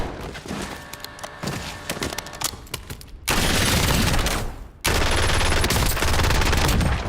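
Kilo assault rifle in Warzone firing, with rapid clustered shots early on, then two long, loud, sustained bursts of automatic fire.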